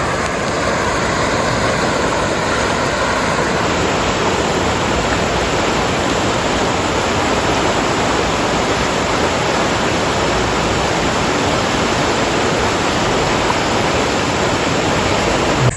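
Rapids on the Little River rush loudly and steadily, a close, dense roar of churning water that holds unbroken throughout with no voices.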